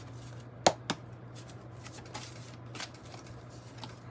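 Oracle cards are shuffled and pulled from an animal oracle deck, a sharp snap followed by a second flick and softer sliding rustles over a quiet room hum.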